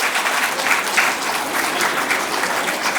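An audience at a Prathibha Puraskar student award ceremony claps loudly and steadily, a dense sustained applause throughout with no speech over it.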